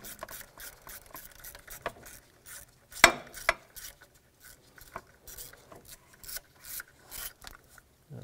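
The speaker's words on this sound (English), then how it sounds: "with a 10mm, remove this bolt here" A 10mm wrench turning a bolt on a 2006-2011 Honda Civic, quiet intermittent ratcheting clicks and rasping scrapes with a sharp metallic knock near the middle, no voices.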